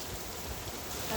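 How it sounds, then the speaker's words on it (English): Rain falling steadily at a hotel in Playa del Ingles, Gran Canaria, heard as a continuous broadband hiss of drops on surfaces, fairly even in level with no voices. "It's just started raining."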